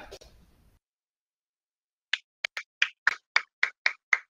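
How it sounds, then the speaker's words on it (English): Sparse applause from a small online audience: roughly nine separate, sharp claps in a loose rhythm after a brief voice and a pause. "I hear a very small applause."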